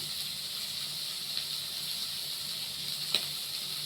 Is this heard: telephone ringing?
no